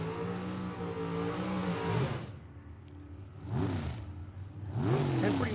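Drag racing Pontiac accelerating down Tucson Dragway: a loud engine roar fades out, then two further bursts of revving and rising pitch as cars shift and pull away, no talk.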